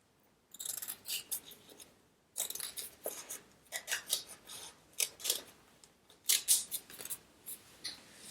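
Scissors snipping through tan paper at close range, a run of crisp sharp cuts in uneven bursts with short pauses between, quiet and without talk.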